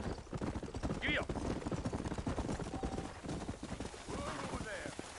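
Horse hooves clip-clop at a steady trot in a western video game, close and continuous, with a brief whinny partway through and a voice talking over the hoofbeats.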